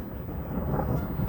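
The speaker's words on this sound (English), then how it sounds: "we just had a thunderstorm. You can hear it rolling through now" Thunder from a passing thunderstorm over Val Vista Lakes rolls as a low, steady, distant rumble, heard briefly without speech.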